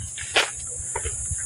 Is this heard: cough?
no